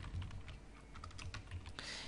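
Fingers typing on a computer keyboard during a typing-test exercise, a quick irregular run of light key clicks with occasional heavier taps, close and fairly faint, no talking.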